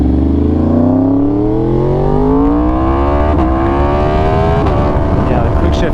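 A 2020-or-later Yamaha R1 sport motorcycle with a flashed ECU and a quick shifter, ridden hard with a loud, close engine whose pitch rises steadily under acceleration and briefly drops at quick upshifts.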